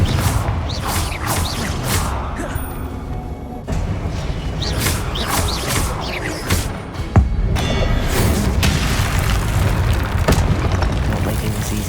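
Blasts from the Confringo fire spell in the Hogwarts Legacy video game, a rapid series of deep booming explosions and crashing impacts with whooshes between them, loud and continuous, with one sharper hit midway.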